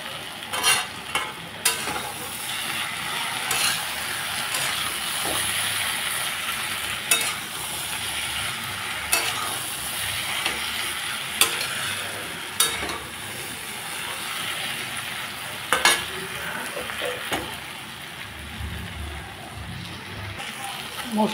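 Chickpeas and spices fry and sizzle in a pan after a pinch of asafoetida goes in, a steady close crackle with repeated sharp stirring scrapes and clicks throughout, no speech.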